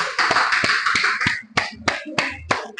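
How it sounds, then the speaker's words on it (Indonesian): Students in a junior high school classroom clap for a group, a ragged run of sharp hand claps with several quick bursts, close and fairly loud, with no talk over them. "tepuk tangan dulu untuk kelompok 4"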